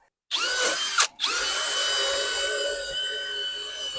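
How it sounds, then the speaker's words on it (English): An electric drill whirs loudly up close while deep cleaning a Ford Bronco II, briefly stops and restarts, then runs steadily in a high, continuous whine. "Yeah, you can use the drill."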